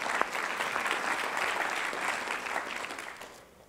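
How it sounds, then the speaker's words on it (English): Audience applause breaks out during a speech at a Sages and Scientists event, a dense clapping crowd, fairly distant, sustained and then fading out toward the end. "this deserves another applause"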